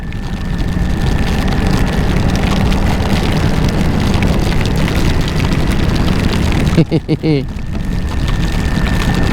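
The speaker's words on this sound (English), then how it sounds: "Wow, that's big rain now." Heavy rain falls during a ride on a Honda CRF 300 Rally motorcycle, a loud, steady wash of noise mixed with engine and wind rumble, broken briefly by a few sharp fluttering bursts near the end.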